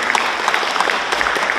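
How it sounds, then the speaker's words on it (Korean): Warm applause from an audience at an academic history conference for a Buddhist nun after a song performance, many hands clapping in an even, continuous patter, close and fairly loud. "오영희 스님께 다시 한번 따뜻한 박수 부탁드리겠습니다."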